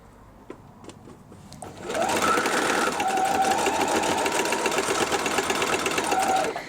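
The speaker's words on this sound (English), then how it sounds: "I'll take my pins out, and I'm just going to keep sewing all the way." A sewing machine stitches a quilt block in one long continuous run, starting after a brief quiet moment and then whirring loudly and steadily up close until the end.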